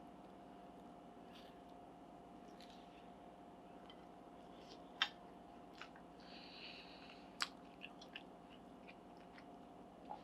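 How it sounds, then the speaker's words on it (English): Bites into crispy reheated pizza crust from a toaster oven, heard as a few faint, sharp crunchy snaps and soft chewing scattered over a quiet hum, with no talking. "Nice crispy crunch on the crust"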